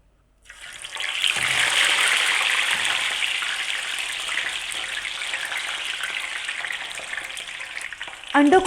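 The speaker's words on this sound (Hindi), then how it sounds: "अंडों को हमने यहाँ पर हल्का सा शैलो फ्राई करना है" Boiled eggs with deep cuts shallow frying in oil in a pan for egg korma, a loud continuous sizzle rising sharply at the start and holding steady, with a brief clatter of utensils near the end.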